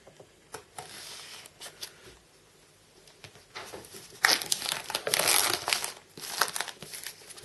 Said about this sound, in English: So let's get the packaging open.